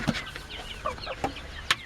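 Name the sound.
Indian game chickens and rooster clucking in coop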